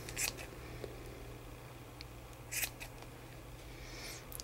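Scissors snip through crochet bag straps in a few quiet, crisp cuts spaced apart, with soft handling rustle between them.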